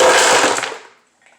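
A blender whirs loudly as it crushes strawberries and ice for a virgin strawberry piña colada, then winds down and cuts off, followed by a faint clink.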